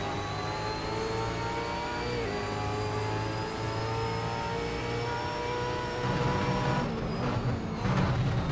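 A V8 Supercar in Assetto Corsa at Queensland Raceway revs up a straight toward the rev limiter, its steady rising engine note loud and close, roughening near the end with extra bumpy noise.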